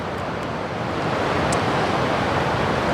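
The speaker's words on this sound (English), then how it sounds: "the water, the waves" Ocean waves wash onto a beach in Korea as a steady, loud broadband surf roar that holds close and continuous, with a slight swell in level after the first second and no voices.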